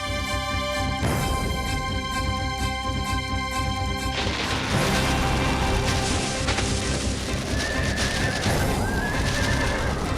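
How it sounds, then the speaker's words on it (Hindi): A frightened horse balking and refusing to go forward whinnies loudly through a dense, continuous wash of crashing, booming noise, with sustained tonal layers early on and hoof clatter mixed in. "घोड़ा आगे जाने से डर रहा है।"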